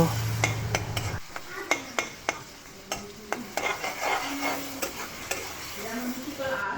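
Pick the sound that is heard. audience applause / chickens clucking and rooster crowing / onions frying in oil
onions frying in oil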